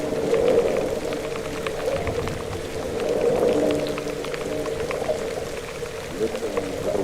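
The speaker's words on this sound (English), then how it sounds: "Listen to the waves." Sea waves surging in a cave by the restless sea, a loud continuous wash with slow swelling rises and falls and a faint tonal wail over it.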